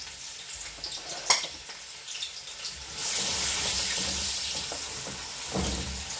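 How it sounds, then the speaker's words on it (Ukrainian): Soft sizzling of chopped onions frying in hot oil, with occasional stirring clinks and a brief rise in hiss partway through. "Олійка розігрілася, цибулю накришили і кидаємо."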